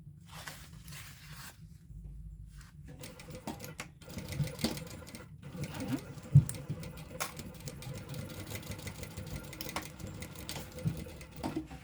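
A sewing machine stitches the lining of a Bartleby sling bag in a long, steady run that grows a little busier partway through, with small clicks and handling noises over a low motor drone.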